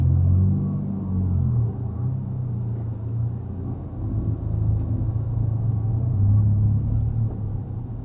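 Cars sit in a slow-moving traffic jam, heard as a steady, loud, low engine rumble and road drone from inside a vehicle with no talking.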